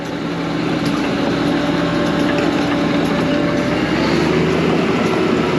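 An old cable shovel runs steadily with a continuous, loud mechanical engine drone and rumble, alone and unbroken throughout.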